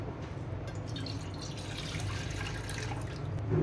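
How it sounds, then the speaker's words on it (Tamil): Water from a glass poured into a cooking pot, a steady soft splashing trickle throughout, fairly quiet and close with no talk. "அதில் நம்ம எடுத்து வச்சிருக்கிற ஒரு கிளாஸ் தண்ணியை சேர்த்துக்கலாம்."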